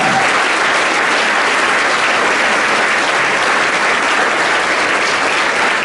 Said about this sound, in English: Give a round of applause for that.